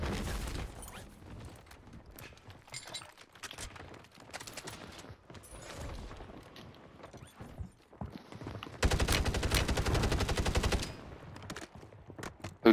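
Gunfire in the Call of Duty video game: scattered single shots and short bursts crack through the first part, then a dense, sustained automatic burst roars near the end, loud and close, with no talk over it.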